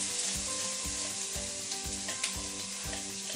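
Rinsed split peas being stirred into sizzling onions in a pot over medium heat, with continuous frying hiss, rhythmic spoon scrapes and soft knocks, close and without speech.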